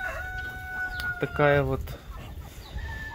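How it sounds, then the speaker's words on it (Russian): A rooster crows once nearby, a harmonic call rising and holding, with softer bird sounds and a brief spoken remark around it. "петух и курочка"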